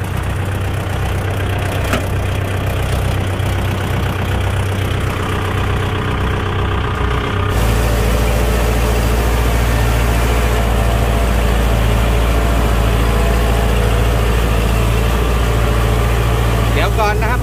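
A tractor with a rotary tiller attached idles steadily and loudly at close range, a continuous low diesel rumble that shifts to a slightly deeper, fuller drone partway through, with no clear speech on top.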